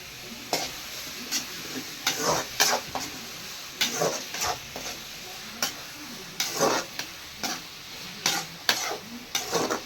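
Tomatoes and onions sautéing in a pan with salt for vada curry, a soft sizzle broken by repeated bursts of spoon stirring and scraping.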